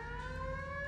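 A steady electronic alarm siren in Ghost Recon Wildlands wails continuously with a sustained tone, clear and unbroken, with no voices over it.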